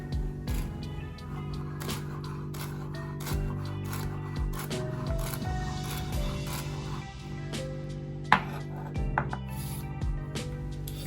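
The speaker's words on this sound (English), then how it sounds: "Now time to cut our beautiful celery." A knife finely chops peeled, julienned celery on a board, giving a steady run of quick close taps over a faint background hum.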